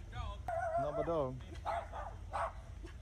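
A small dog yelps and whines in a high, wavering run, then gives a few shorter barks, heard close with a steady low rumble underneath.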